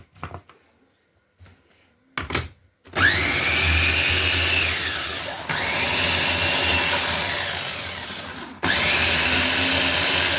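An electric food processor chops onion for stuffed cabbage in a home kitchen, starting with a few short clicks, then running loud in three long continuous whirring bursts separated by brief pauses.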